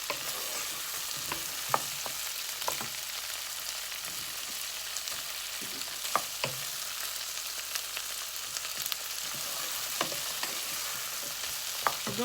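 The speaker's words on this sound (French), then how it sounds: "je vais d'abord laisser mijoter mes légumes" Vegetables for a plantain dish simmer and are stirred in a pot, giving a constant bubbling sizzle with scattered scraping and tapping from the spoon against the pot.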